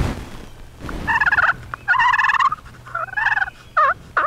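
Wild turkeys gobble in several rattling bursts, fairly close and loud, separated by brief quiet gaps outdoors, as eastern wild turkey strutters display.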